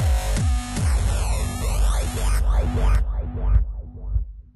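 A deep electronic hardstyle kick hit followed by repeating delay echoes that sweep and bounce in pitch, fading out over a few seconds.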